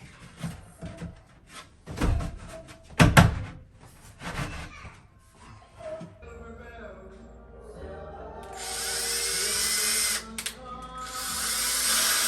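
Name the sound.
drilling pilot holes in thin wood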